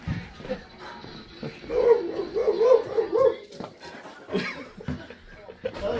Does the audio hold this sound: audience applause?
no